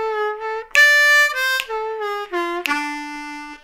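Blues harmonica lick in third position, lower octave, played alone with sustained draw notes bent down a whole step and a step and a half, sliding into a lower bent note before settling on a long held final tone.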